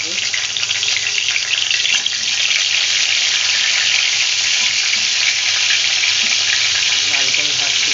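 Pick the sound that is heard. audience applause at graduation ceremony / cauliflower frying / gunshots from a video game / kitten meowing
cauliflower frying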